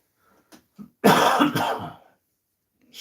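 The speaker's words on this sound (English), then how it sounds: "Excuse my cough." A single harsh cough bursts out after a couple of small throat sounds, loud and close, then fades into quiet.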